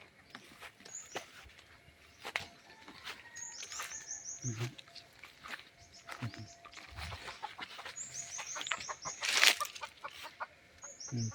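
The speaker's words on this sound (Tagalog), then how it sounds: "May manok dito." Junglefowl clucking intermittently among forest and farm-field sounds, with bird calls, rustling and occasional quiet talk in the background; fairly faint and distant.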